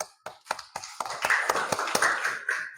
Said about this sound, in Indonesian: Iya, luar biasa. Tepuk tangan.